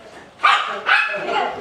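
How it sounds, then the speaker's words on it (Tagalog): Two or three sharp barks from dogs at a pet farm in Sa Pa, Vietnam, close by and spaced under a second apart, with a faint voice in the background. "Ang cute naman ng mga aso."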